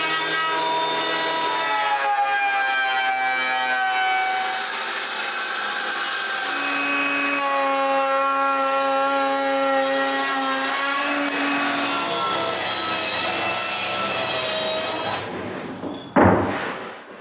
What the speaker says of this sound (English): While the glue dries, I surface yet another long board.